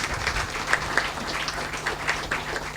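Workshop attendees give a sustained round of applause, a fairly loud, dense clapping that carries a few brighter accents, with a low steady hum running beneath it.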